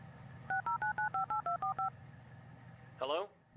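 Smartphone dialing tones in the video game Resonance, a rapid run of about nine evenly spaced two-note beeps, followed by a short higher electronic chirp, quiet and close.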